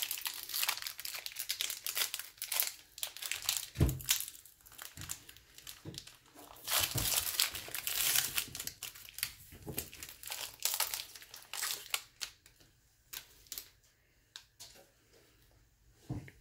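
Baseball card bonus pack being ripped open by hand, with close, loud crinkling and tearing of the foil wrapper in irregular bursts, followed by quieter handling rustles as it settles.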